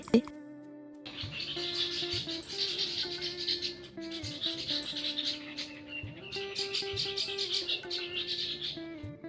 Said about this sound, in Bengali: তুলা গাছে পাখি কেচের মেচের করছে কি ভালোই না লাগছে শুনতে